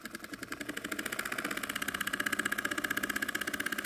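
A miniature Dongfeng diesel engine runs with a steady, rapid chugging beat that grows louder and faster as it is revved up, heard close with no talk.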